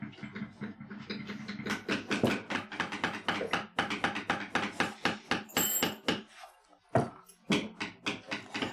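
A metal bevel tool is struck rapidly on leather, with a long run of sharp, close taps in a quick, steady rhythm and a short pause near the seven-second mark.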